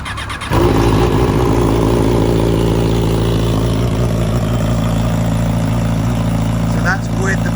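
A Yamaha R6 sport motorcycle starts and settles into a loud, steady idle in neutral with the exhaust baffle fitted, a close, even engine drone running throughout with a slight change near the end.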